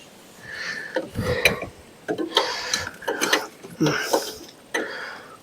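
A ratchet wrench works bolts loose in a tight space on the valve cover area of a 2001 Ram 3500 diesel, giving short clicking bursts with pauses between them, fairly close and moderately quiet.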